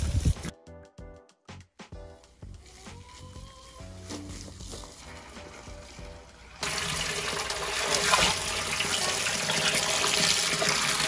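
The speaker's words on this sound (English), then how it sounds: "So first things first, we're washing all that, get any of the junk off" Turtle meat being washed under water before boiling: a few scattered clatters and drips give way to a steady rush of tap water that runs on loudly to the end.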